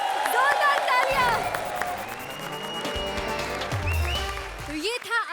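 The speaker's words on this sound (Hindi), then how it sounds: "जोरदार तालियां।" Studio audience at a TV comedy show breaking into loud applause and cheering, mixed with background music and voices talking over it.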